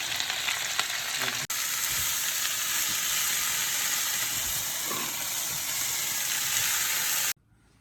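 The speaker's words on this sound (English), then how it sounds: "now I'm going to stir fry these vegetables because the pan is not big enough for it" Beef and vegetables stir-frying in a pan that is too small for them, giving a loud, continuous close sizzle with a few brief stirring knocks before it cuts off abruptly.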